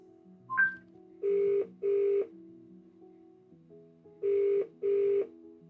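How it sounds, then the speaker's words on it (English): A phone call placed by voice assistant starts with a short dialing chirp, then two pairs of evenly spaced ringback tones separated by a pause, heard clearly and alone at moderate volume. "Okay, Google, phone Ian."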